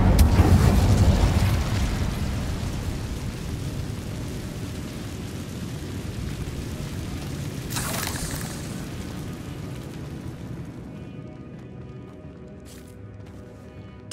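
A fiery Incendio spell is cast in Hogwarts Legacy, a loud whooshing burst at the start that rumbles and slowly fades, with a second rushing flare partway through and faint ambience after.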